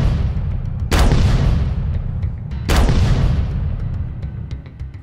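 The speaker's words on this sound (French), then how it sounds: "Trois grenades fumigènes vinrent exploser entre le muret et le château." Smoke grenades bursting between a low wall and a château during an assault in an audio drama, two sharp booms about two seconds apart over a dense, rumbling battle bed.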